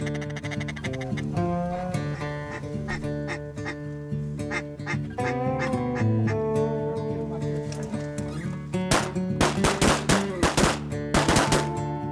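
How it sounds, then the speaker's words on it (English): Shotgun blasts ring out in several quick bursts during a duck hunt at a waterfowl lodge in Stuttgart, Arkansas, loud sharp reports near the end over tonal background music and faint calls. "Good shooting, guys."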